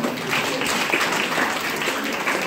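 Audience applause at a women's empowerment gathering, a steady wash of clapping from a crowd that fills the whole stretch without a break, fairly close and even in loudness.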